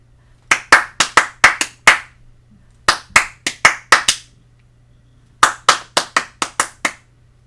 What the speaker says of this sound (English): Wasn't that fun with clapping, playing with rhythms?